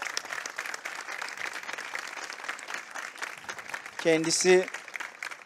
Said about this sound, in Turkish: Sevgili Emirhan için bir kez daha alkış rica ediyorum ben